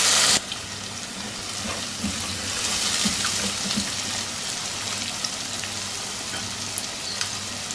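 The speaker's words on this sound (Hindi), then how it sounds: "अब इसमें शामिल कर देंगे उबले हुए चने और अब इनको 2-3 मिनट अच्छी तरह से फ्राई करेंगे तेल में।" Boiled chickpeas fry in hot oil with a steady, close sizzle and occasional light stirring clinks. No one speaks.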